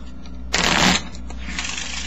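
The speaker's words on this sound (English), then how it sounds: "and then you don't flip either one of these over, and then you just shuffle them." Two packets of playing cards are shuffled together in a single brisk riffle of about half a second, a loud dense flutter that stands alone against a quiet background.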